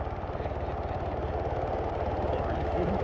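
Helicopter from the Arma military video game approaching, a steady loud low rotor thrum and engine drone filling the whole clip without a break.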